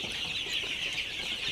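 A flock of Fayoumi chickens, about a month old, clucks and chatters steadily on a farm. It is a dense, continuous sound with no talking.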